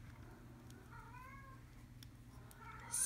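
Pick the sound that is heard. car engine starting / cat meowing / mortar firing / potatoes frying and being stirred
cat meowing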